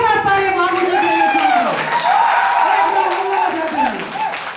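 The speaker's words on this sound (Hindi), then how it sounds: "एक बार जोरदार ताली महागुरु जी के लिए।" An audience bursts into applause for Mahaguru ji at an achievers' celebration in Pipariya. The clapping is loud and sustained throughout, with a voice carrying over the crowd.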